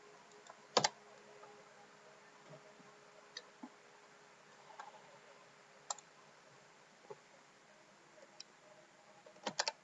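Keystrokes on a computer keyboard while JavaScript code is entered, arriving as sparse, irregular clicks with a brief flurry near the start and another at the end, all over a quiet background hiss.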